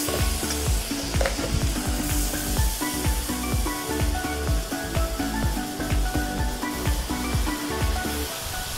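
A hot sizzler plate hisses and crackles loudly as a chocolate brownie and ice cream go onto it, a steady close-up frying sizzle with scattered pops and spits throughout.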